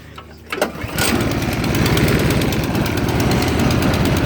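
A Craftsman snowblower engine is pulled over with the choke off, catches after a couple of sputters and settles into a loud, rattly, rapidly chugging idle close by, with no one talking.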